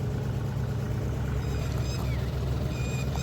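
A tractor engine rumbles steadily on the way to the field, loud and constant, with faint high squeaks and rattles above it and no talking.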